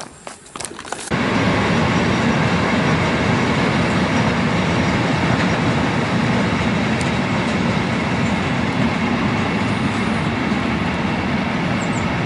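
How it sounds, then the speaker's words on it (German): A train passes below the old Hombourg station, which no longer has a rail connection. After a brief quieter start, a loud continuous rail rumble with rolling wheel noise runs steadily to the end. "Ein Zug fährt anscheinend hier unten noch,"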